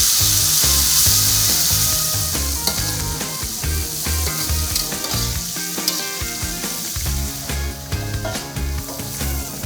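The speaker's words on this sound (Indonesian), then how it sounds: "Kak Denny sudah siap menggoreng balangnya" Loud, dense sizzling of grasshoppers frying in a little hot oil, with rhythmic scraping and clattering as they are stirred in the pan.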